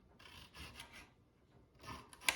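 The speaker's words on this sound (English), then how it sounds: "You don't have to get them real small. Just dice them up," A knife chops pizza peppers on a cutting board, giving a soft, quiet run of scraping and dicing strokes up close, with one sharper knock at the end.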